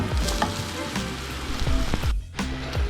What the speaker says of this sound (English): we've just seared the pork belly and it's nice and brown as you can see